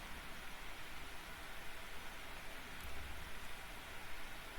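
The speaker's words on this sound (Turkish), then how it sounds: "Oyunda yağmur sesi." Steady rain falling in the medieval combat video game Mount & Blade: Warband, a constant even hiss of downpour with no other sounds standing out.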